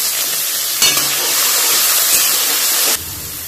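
Carrots and beans hit a hot pan and fry with a loud, close, hissing sizzle that holds steady for a few seconds before easing off.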